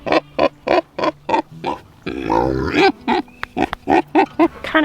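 A pig on a farm grunting and oinking in a rapid series of short, close grunts, broken midway by a longer squealing, roaring call before the rhythmic grunts resume.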